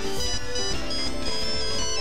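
A mobile phone ringtone plays loud and close, a bright repeating electronic melody with steady tones that runs without pause and no voices over it.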